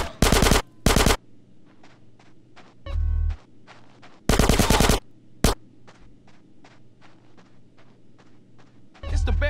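Automatic gunfire in the video game GTA San Andreas rattles in several loud bursts, mixed with single sharp shots, over a quieter rhythmic patter in the gaps.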